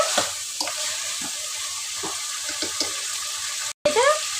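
Chicken being stirred in a hot pan with ginger garlic paste, a steady sizzle broken by repeated scraping strokes, loud and close, with a short gap near the end.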